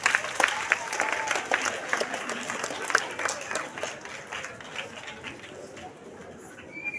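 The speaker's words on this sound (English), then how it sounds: "Clap for yourselves." Students at a youth climate action campaign event applauding themselves, a lively burst of crowd clapping that gradually thins and fades, with outdoor bird cooing and faint voices underneath.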